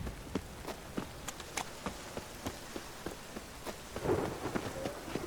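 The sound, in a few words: rain and thunder in The Witcher 3 video game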